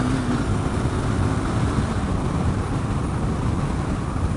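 A Harley-Davidson Street 750 motorcycle accelerating, its engine a loud continuous rumble buried in heavy wind rush from riding, with no voices.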